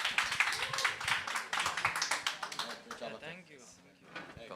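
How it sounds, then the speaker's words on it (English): Conference audience applauds a panel moderator, a brief burst of clapping that thins out after a few seconds as people begin chatting nearby. "And a round of applause to our moderator, please."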